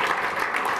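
A short burst of dense audience clapping for a magician's helpers at a stage show, loud and continuous from start to end.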